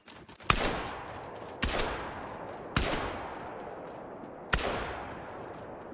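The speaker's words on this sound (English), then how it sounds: "time for some of my favorite bird hunting with the new executive rifle. Ooh, not rifle, but you know, shotgun" Four shotgun blasts ring out in theHunter: Call of the Wild during a quail hunt with the Executive 10SA shotgun, spaced about a second apart, each a sharp crack trailing off into a long echoing decay.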